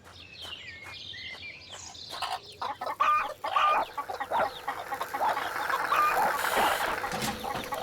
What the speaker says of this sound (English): wondered why the chickens were making such a noise